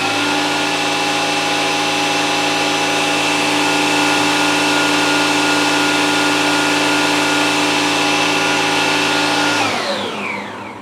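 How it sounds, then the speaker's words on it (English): A vacuum cleaner on its maximum setting runs close to the listener with a loud, steady whining drone and strong tonal hum, then winds down near the end as it is switched off. "Using the sound level meter to measure the sound for this vacuum cleaner."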